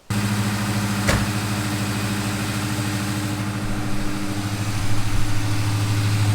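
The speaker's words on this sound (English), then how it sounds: "We're going to fire this up for the second time." A race engine fires up abruptly and settles into a steady, loud, rumbling idle with a sharp crackle just after starting and a slight rise in revs near the end.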